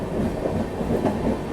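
The Hubli to Nizamuddin superfast express (20657) running nonstop, a low, steady rolling rumble of the train with faint rhythmic wheel beats and no talk.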